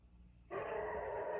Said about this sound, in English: My neighbor's dog's out.